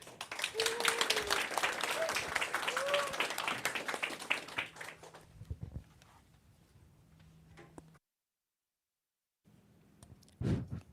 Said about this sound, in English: let us please give a big round of applause